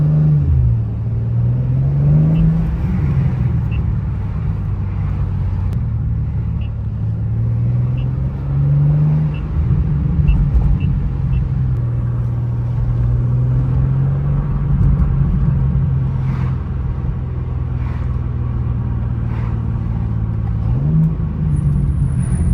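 A BMW G87 M2 engine drones steadily from inside the car, its pitch rising and falling gently with light throttle changes, a continuous low rumble with no talk.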